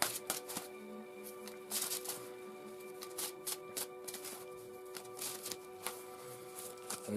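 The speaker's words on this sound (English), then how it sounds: "the Tarot of Dreams deck that I'm now giving a last minute shuffle to" A Tarot of Dreams deck being shuffled, quiet close riffles and soft card slaps in uneven bursts over a faint background hum, with no talking.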